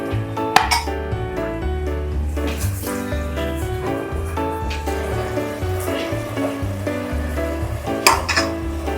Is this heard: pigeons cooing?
no